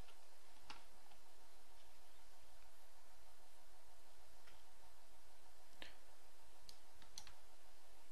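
Several sharp, faint mouse clicks sound at uneven intervals while an application is launched and loaded on a computer, set against a quiet steady background hiss with no talking.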